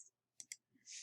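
Two quick, sharp computer mouse clicks close together, quiet and close, on a desktop Linux machine while quitting an application, followed by a brief hiss of noise.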